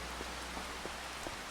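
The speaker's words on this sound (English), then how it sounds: "Oh, and it's starting to rain." Steady rain falling in the video game Riverbend Springs, a constant soft hiss of drops with faint patter accents, fairly quiet and heard alone with no talking.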